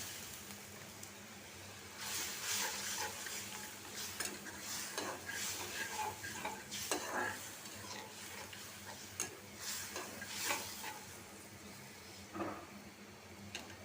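Masala for a prawn bhuna is stir-fried in a pan, a low sizzle running throughout beneath repeated scraping and tapping of a spatula against the metal in irregular close strokes.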